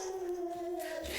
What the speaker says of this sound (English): and the dogs are on alert